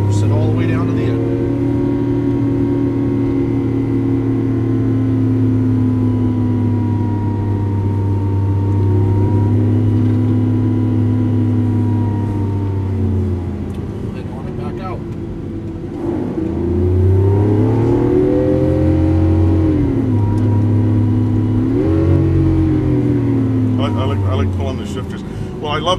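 A 2012 Lamborghini Aventador in Verde Ithaca pulls away and accelerates on the track at Las Vegas Exotics, its engine droning loudly from inside the cabin with rising and falling pitch across gear changes.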